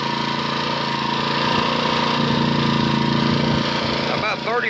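A motor on an oil additive test, with Liqui Moly MoS2 formula #2009, runs warmed up at a steady high idle near 3,400 rpm, loud and droning, with a brief dip and wobble near the end.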